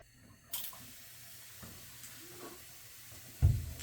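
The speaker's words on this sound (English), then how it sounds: "I'm just spraying off your feet." Water sprays and runs from a tap in a sink while an African grey parrot's feet are rinsed, a faint steady hiss with a few louder splashy bursts, close by and without talk.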